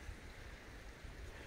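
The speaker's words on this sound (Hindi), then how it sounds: "ये देखिए चारों तरफ पानी की कलकलाहट की आवाज़ आ रही है" Water babbles and flows steadily through a forest with kadam trees, a soft continuous wash with low rumbling, fairly faint and unbroken, with no voices.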